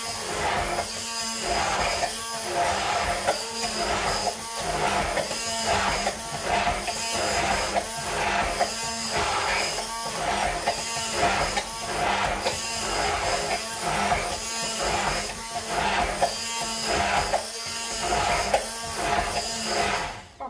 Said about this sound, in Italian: Allora, monto di nuovo il tutto e frullo.